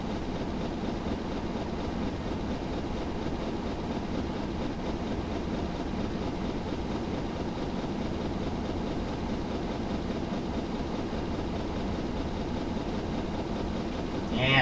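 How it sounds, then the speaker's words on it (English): Rumbling train with helper locomotives running continuously in Train Simulator on Sherman Hill, a steady low engine drone with faint rail clatter throughout. "with our couple helper locomotives, we should be able to go fast enough"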